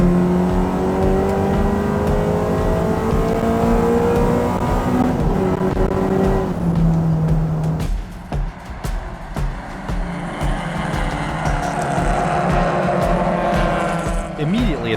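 Race cars roar and accelerate in a close pack off the start, engine notes rising together, loud and continuous, with a voice talking over the din toward the end.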